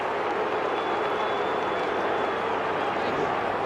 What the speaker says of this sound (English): Crowd's into it now, aren't they?